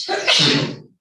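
A single sharp, loud sneeze bursts out and fades quickly, close to the listener, during a Catholic school board meeting.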